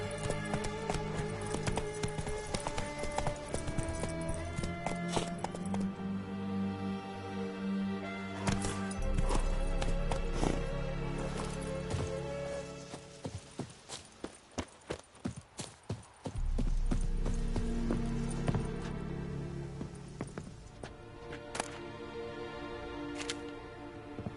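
Horse hooves clip-clop steadily in The Witcher 3 as a mount trots along, a rhythmic run of close hoofbeats over layered game music and ambience, with a brief quieter stretch midway before the steady gait resumes.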